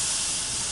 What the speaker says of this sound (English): first I do want to get that nice little sizzle in